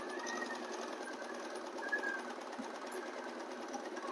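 Usha sewing machine running steadily while stitching a zigzag fall onto a saree edge, a continuous close mechanical whir at moderate level with no pauses.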